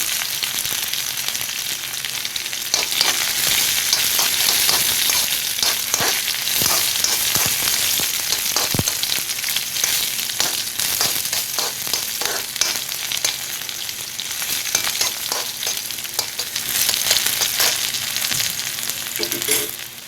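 Shallots and dried red chillies frying in hot oil for a fish curry in coconut milk, a loud continuous sizzle with crackling bursts and occasional stirring scrapes, with no voices over it.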